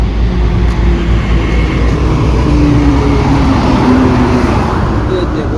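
Loud, continuous roadside traffic roars past a tyre repair spot where a car sits up on a jack, with vehicles rumbling by nonstop throughout.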